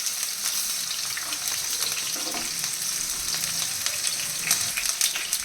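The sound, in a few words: okra frying in oil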